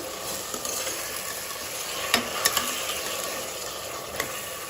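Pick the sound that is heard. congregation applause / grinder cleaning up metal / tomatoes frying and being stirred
tomatoes frying and being stirred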